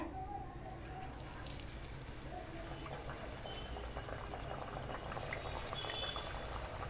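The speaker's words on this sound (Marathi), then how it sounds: "आता आपण वडे तळून घेऊया" Steady bubbling and sizzling of sweet cucumber vadas deep frying in hot oil in a kadhai over medium flame, soft and continuous with faint crackles, no talking.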